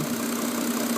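A Mercedes 350SDL diesel engine idles steadily nearby, a constant low drone with a faint knocking texture and no change in speed.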